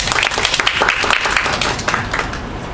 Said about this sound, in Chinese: 我们给他一个掌声